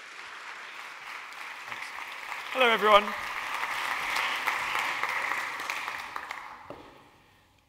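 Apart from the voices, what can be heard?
audience applause for keynote speaker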